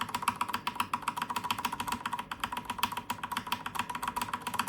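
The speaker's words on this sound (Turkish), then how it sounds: "Hemen klavyene geliyorsun. Buradaki del tuşunu buluyorsun." The Del key on a computer keyboard is pressed repeatedly at a fast, steady rate, giving a continuous run of crisp plastic clicks close to the microphone, with no speech.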